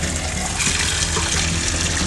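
Water pours steadily into a container, gushing loudly and continuously, to make brine for traditional Estonian sauerkraut. No one speaks.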